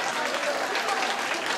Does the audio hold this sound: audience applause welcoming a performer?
yes